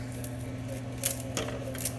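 Scissors snipping through store-bought flower stems while trimming in an arc, a few quiet crisp clicks against a steady low hum.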